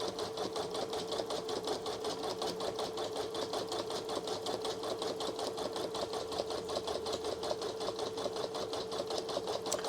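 A Janome Memory Craft 1000 embroidery machine stitches a donut-shaped design, giving a steady rapid needle rhythm with a constant motor hum, fairly quiet and uninterrupted throughout.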